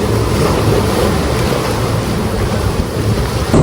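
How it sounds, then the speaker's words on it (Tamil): Forceful ocean waves crash onto the beach at Kanyakumari, a loud, dense, continuous roar of surf with some wind buffeting the microphone and no talk. "ஸோ இந்த அலை சவுண்டு உங்களுக்கு கேட்குதா?"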